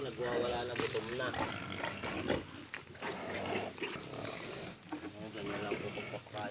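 A crowd of hungry pigs squealing and grunting loudly and continuously at feeding time, with a few voices talking over the noise.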